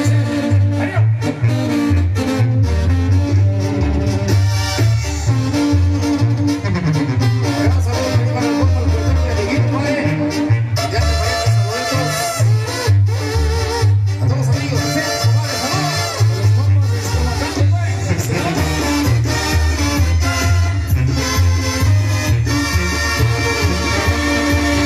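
A Mexican brass band plays a ranchero song at a patronal festival, loud and continuous with driving bass and full horns throughout.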